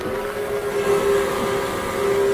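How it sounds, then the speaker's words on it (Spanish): A long, low steam locomotive whistle holds one steady tone throughout, loud and sustained over a rumbling background, with no voices. "Y luego hubo un silbido largo y bajo."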